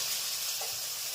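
Hot oil tempering for handvo sizzles in a pan, a steady, close hiss that runs unbroken through the whole short moment with no talking.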